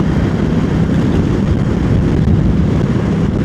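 A steady, low engine rumble from an idling Royal Enfield Classic 350 motorcycle warming up, running continuously at an even level, with no voices over it.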